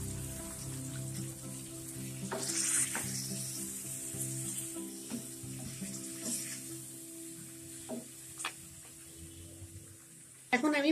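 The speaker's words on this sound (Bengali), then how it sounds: "নারিকেলের ঘন দুধটা দিয়ে দিচ্ছি" Thick coconut milk is added to duck meat, with potatoes, cooking in a pot, giving a soft, steady sizzle and bubbling at low volume that runs throughout, with occasional faint clinks and a sharper knock at the end.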